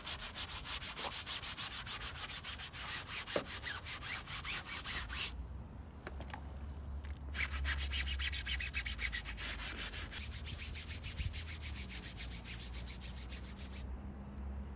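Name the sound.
scrubbing car roof during detailing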